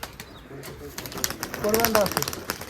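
Pigeons at a pigeon farm in Bangladesh give soft, low coos with a little wing movement, heard nearby while people talk over them.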